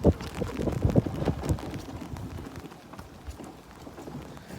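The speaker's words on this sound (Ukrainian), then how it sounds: "дощ почав жорстко насипати" Heavy rain pours down during an outdoor drive, a dense steady hiss with louder bursts of drumming in the first second and a half before it settles into a continuous wash.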